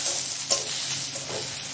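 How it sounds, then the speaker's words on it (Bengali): Whole spices and cumin seeds fry in hot oil in a kadai while a spoon stirs them, a close, soft, steady sizzle with light scraping and occasional stirring clinks, with no voices. "তো মশলাগুলো ভাজা হতে থাক"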